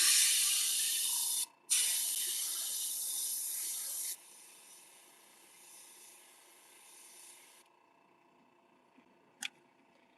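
An airbrush sprays paint onto a fishing lure in a bone lavender shad color, a loud close hiss with a brief gap, then a softer spray that stops, followed by a faint click.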